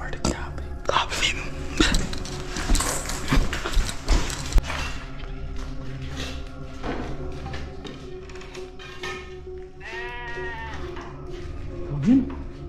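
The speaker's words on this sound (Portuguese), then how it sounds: "Mas é uma cabra, você viu? É uma cabra, um bode." A goat bleats several times nearby in a farm-like setting, wavering cries rising above low background noise, with people whispering and murmuring around it.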